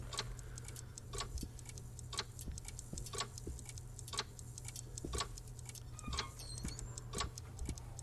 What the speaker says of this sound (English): Can hear a lot of different ticking.